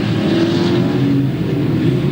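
Figure 8 race cars on the Louisville Motor Speedway outlaw figure 8 track roar through the intersection in 1997, a loud, continuous engine drone with steady rumble throughout.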